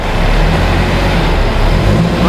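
A car stuck in mud on a rural road near a nature reserve, its engine droning steadily and loudly throughout with a continuous low rumble and no clear rises in pitch.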